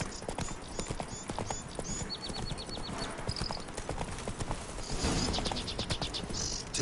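Hooves of Roach, a horse in The Witcher 3: Blood and Wine, clip-clopping steadily and close by, with a short snort, no voices.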